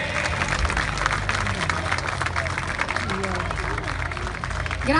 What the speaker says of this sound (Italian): Un applauso a Luca Andrieri, grazie.